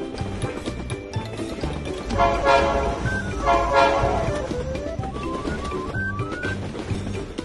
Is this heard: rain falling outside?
no